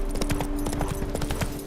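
A horse in The Witcher 3 clip-clops at a steady walking rhythm, hooves close and distinct over a low sustained game ambience.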